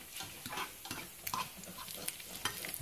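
Lardons sizzling in a pan, heard as a quiet, continuous crackle with scattered scraping and stirring clicks throughout.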